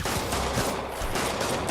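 An armed enemy fires a rapid burst of gunshots in Marvel's Spider-Man, loud, dense and close, with cracks running together for under two seconds.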